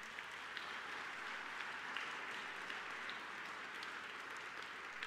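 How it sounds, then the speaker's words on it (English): A crowd at a developmental disabilities awareness month kickoff event claps in a steady, even wash of applause, fairly distant and sustained for several seconds without talk over it. "so she really deserves a round of applause."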